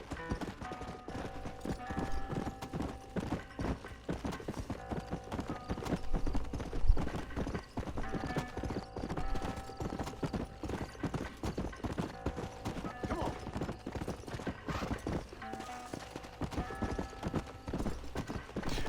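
Rapid, steady hoofbeats of a galloping horse in the video game Red Dead Redemption run throughout over a music bed, with a brief whinny and occasional voices in the background.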